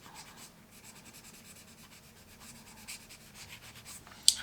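A 2B graphite pencil shading and blending on paper beneath the lips of a portrait drawing, a soft continuous scratchy rub that comes close and quiet, ending in one brief sharper tick.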